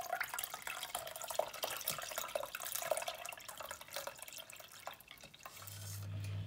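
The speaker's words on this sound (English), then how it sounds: "So now that I finished straining it" Strained Jamaican sorrel drink drips and trickles into a container in faint, irregular patters, close by, and ends with a low hum.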